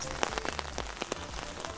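Steady rain pattering on surfaces outdoors at a wildlife park with kangaroos, a dense continuous hiss with scattered individual drop taps, fairly close and alone with no talk.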